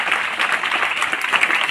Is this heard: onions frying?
no